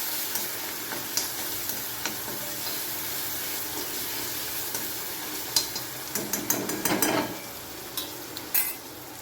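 Ginger, chili and coriander paste sautés in hot spiced tempering for misal, a steady low sizzle with scattered stirring scrapes and clinks, busier near the end; no one speaks.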